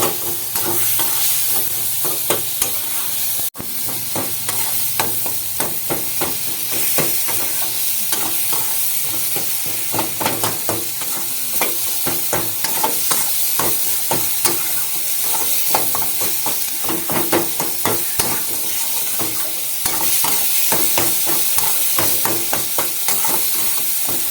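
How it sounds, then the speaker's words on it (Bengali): A spatula steadily stirs and chops tomatoes with turmeric in a sizzling pan of fresh pond rupchanda fish curry, the frying hiss continuous and close, with rhythmic scraping strokes throughout. "এবার টমেটোগুলো একটু খুন্তি দিয়ে কেটে কেটে দেবো।"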